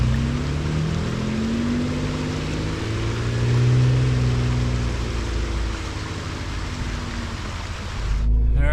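A Ram 1500 Laramie pickup's engine drones steadily as the truck climbs a very steep off-road bank, a loud continuous low rumble with rising strain, plus a broadband rushing noise throughout and a sharp change near the end.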